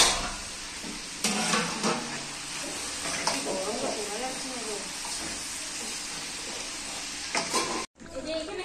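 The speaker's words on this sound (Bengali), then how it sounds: "বিরিয়ানির মাংসটা পুরো ভাজা হচ্ছে।" Meat for biryani frying in a pan, a steady close sizzle with bursts of stirring and scraping throughout, briefly cutting out near the end before resuming.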